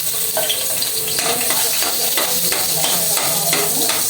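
Garlic and tomato frying in a hot pan for pinakbet, a loud steady close sizzle with crackling pops and occasional utensil scrapes throughout.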